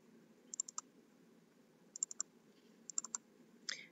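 Computer mouse clicking while saving a Word 2019 document, crisp close clicks in small quick groups of three or four separated by short pauses in a quiet room.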